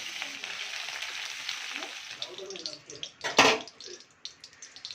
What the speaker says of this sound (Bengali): ভালো করে পটলটা ভাজার পরে পটলটা তুলে নিয়ে